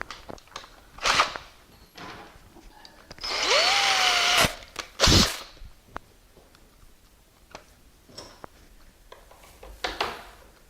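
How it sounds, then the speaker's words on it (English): A power drill whirs in a short burst, drilling a hole in a door for a doorknob, its pitch rising as it spins up, between scattered knocks and clatter of handling. "And just drill you a hole."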